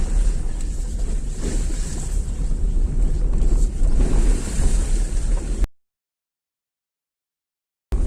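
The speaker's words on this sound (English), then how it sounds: "If you can able to listen the sound of water, this is amazing, man." Water churns and rushes around a car as it drives offroad, a loud continuous wash of splashing and rumbling with wind buffeting, cutting off abruptly near the end.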